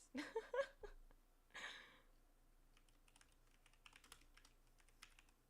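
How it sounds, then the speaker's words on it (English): Rapid plastic clicks and taps from the buttons of a new game controller during a Disney Dreamlight Valley session, close and quiet, coming in quick bursts and scattered single presses, with a soft laugh and breathing near the start. "Is my clicking ridiculous?"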